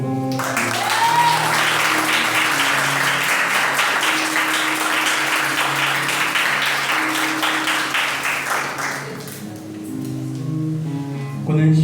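A church congregation breaks into sustained loud applause during a sermon, dense clapping holding steady for about nine seconds before fading, followed by a voice resuming.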